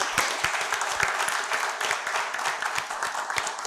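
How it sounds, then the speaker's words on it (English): Loud, close round of applause for the teachers at a school quiz show competition, many hands clapping in a dense, steady burst with no talking. "And a round of applause again for the teachers involved as well"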